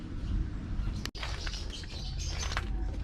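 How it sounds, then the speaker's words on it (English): Dense outdoor birdsong chirps loudly and continuously beside a San Jose bike lane, a steady bright chatter filling the scene with a brief dropout near the middle, with no talking. "I swear the birds are just about deafening right now, which is pretty cool."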